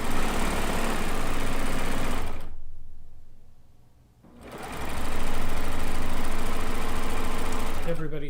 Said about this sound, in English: this is a cover stitch only machine